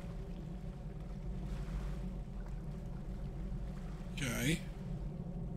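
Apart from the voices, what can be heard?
boat engine and waves, from the video game Deadliest Catch: The Game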